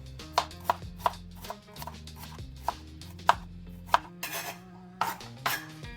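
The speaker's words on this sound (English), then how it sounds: "I'm just going to go ahead and chop this up." Half a purple onion chopped with a knife on a board in a home kitchen, a steady series of sharp close knife strikes with light clinks of dishes and utensils, no talking.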